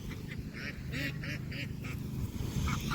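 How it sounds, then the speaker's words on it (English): Several ducks on a farm quack in a short run of calls, moderately near, over a busy outdoor background with little talk. "Here comes the ducks."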